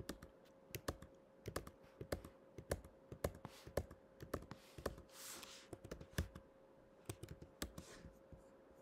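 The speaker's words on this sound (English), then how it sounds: "type in this data into the HP prime calculator" Keys on an HP Prime calculator are pressed in quick, irregular bursts of soft plastic clicks. The clicks are close and quiet over a faint steady hum, with brief pauses between runs of entries.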